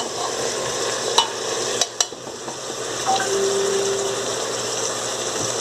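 Cupim beef dropped into a pan of sautéed carrots gives a loud, steady sizzle, with a few sharp clicks and clatters of handling early on and a brief squeak partway through.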